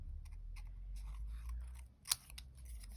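Scissors slice straight across paper card for a shabby chic rose card: a soft, close cutting rustle with one sharp snip near the end, over a low room hum, no voices.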